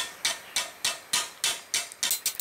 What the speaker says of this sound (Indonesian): pakai landasan plat besi dan dipukul-pukul dengan palu